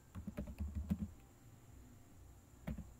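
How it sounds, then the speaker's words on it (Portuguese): Keystrokes on a computer keyboard as a command is entered into a Lubuntu virtual machine: a quick run of close, fairly quiet clicks over the first second, then a pause and one more short burst near the end. "Vou digitar aqui sudo"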